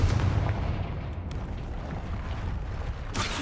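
A Confringo explosion spell goes off in a Harry Potter video game. It is a deep booming blast with a rumbling tail, followed by a sharp crack near the end.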